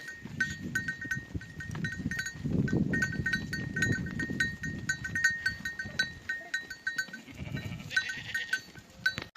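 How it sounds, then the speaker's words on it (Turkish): A flock of sheep on the move gives scattered bleats over a steady shuffling rumble, with bright bell-like tinkling running throughout at moderate distance. "Koyunlar gidiyor."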